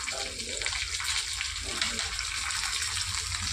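Water being poured into a stone grinding mortar makes a continuous gushing, splashing sound at close range for a few seconds, with faint voices in the background.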